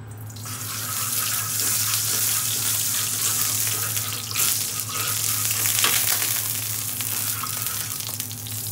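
Sea bass frying in hot, smoking oil in a pan after a light dusting of flour, with a steady loud sizzle and scattered pops and crackles from moisture, close up, no talking.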